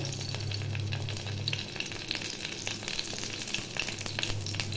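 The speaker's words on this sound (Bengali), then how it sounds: "কড়াইয়ে সাদা তেল দিয়েছি, তার মধ্যে আমি দিয়ে দেবো কয়েকটা কাঁচা লঙ্কা, শুকনো লঙ্কা" Green and dry chillies fry in white oil in a wok for a chutney, giving a steady, close sizzle with soft crackles throughout and no voices.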